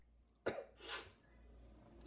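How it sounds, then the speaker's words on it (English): A sick child gives a single short cough followed by a softer breathy throat sound, faint and close in a quiet home room. "I just have the regular cough we've been having"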